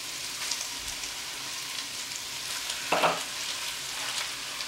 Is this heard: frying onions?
yes